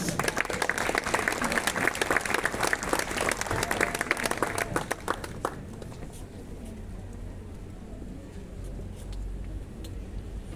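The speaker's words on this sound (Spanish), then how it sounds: "Lo recibimos con fuertes aplausos" An audience at a Franciscan congress marking the eighth centenary of Saint Francis's death welcomes a speaker with loud, dense applause that runs for about five seconds and then fades into quiet room noise with faint shuffling.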